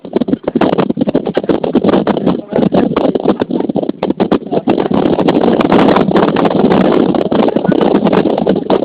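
Strong wind buffets the microphone in loud, continuous roaring gusts, with voices briefly talking under it.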